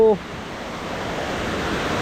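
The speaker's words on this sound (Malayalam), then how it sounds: "ഇവിടെ ഈ മരത്തിൻ്റെ വേരിൻ്റെ ഇടയ്ക്കോടെയൊക്കെ ഈ വെള്ളം ഒഴുകുന്ന കാഴ്ച" Water trickles and flows steadily between tree roots beside the Vireepara waterfall at Mankulam, a continuous broad rushing wash after a brief voice at the start.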